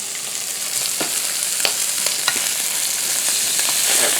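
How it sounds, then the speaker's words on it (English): Venison tenderloin fries in a pan with a steady, loud sizzle and crackle, dotted with sharper spits and pops, close up and with no talking. "I'm going to fry this for 3 or 4 minutes on this side, flip it over, and fry it for another 2 or 3 minutes on the other side."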